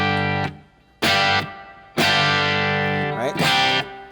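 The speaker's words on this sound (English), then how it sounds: "There's the 60 setting is like a spring reverb." Electric guitar played through a Strymon Flint pedal on its 60s spring reverb setting: three loud distorted strummed chords, each ringing out into a splashy, lingering reverb tail, alone and close.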